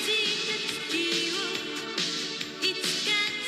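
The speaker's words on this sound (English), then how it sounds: "I realized I showed you the Japanese intro, which sounds like this." Japanese opening theme song of the anime Ronin Warriors, a sung vocal melody over bright full instrumental backing, playing continuously at steady volume.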